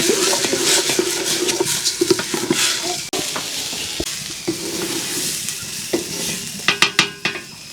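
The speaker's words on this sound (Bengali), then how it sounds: "এখন এই চালটা দিয়ে তারপর একটু ভালো করে ভাজবো।" Rice and spices sizzling and frying in a pot for khichuri, a steady loud hiss with repeated scraping stirs and metallic clinks of a spoon against the pot, close up with no talk.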